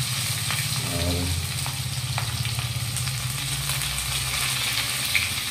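Chopped onion and green chillies sizzle steadily in hot oil in a pan, a dense continuous frying hiss with faint clinks, close and constant throughout.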